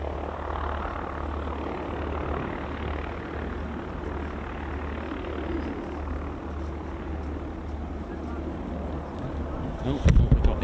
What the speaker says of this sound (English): C-130.